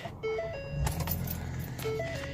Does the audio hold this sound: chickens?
no